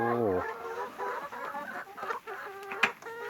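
Laying hens cluck and squawk close by in an uneven chorus, with one sharp cackle standing out near the end.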